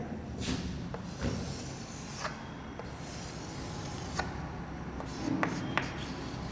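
Pen or chalk writing during a geography lecture: steady scratchy strokes with sharper taps and flicks scattered throughout, close and continuous, with no talk.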